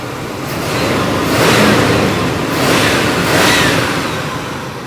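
A 1965 Pontiac Bonneville with a 421 V8 and its original single exhaust, running as a loud, broad engine roar that swells twice in rev surges and then settles, with no voices.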